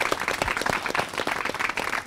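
A studio audience on a Marathi TV comedy show claps briskly and evenly for about two seconds, a close, lively patter of many hands.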